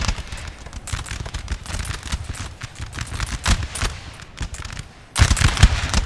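Musket volleys in the Napoleonic Total War III battle game, dense rolling crackle of overlapping shots, loud and continuous, with a brief lull before a sharp renewed burst near the end.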